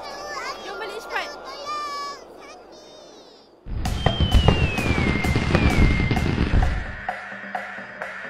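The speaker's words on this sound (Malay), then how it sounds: "Bunga api." After children's chatter, a burst of Chinese New Year fireworks erupts in a cartoon: a whistling rocket climbs, then repeated crackling bangs and booms continue over several seconds.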